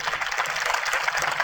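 An audience claps together at a spiritual talk. The applause is a dense, steady patter that runs at an even loudness for the whole moment, with no voices over it.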